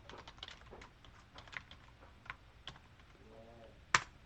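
Numbers being entered on a computer keyboard into an Excel spreadsheet: quick, soft, irregular keystroke clicks in a few short bursts close by, ending with one sharper key tap.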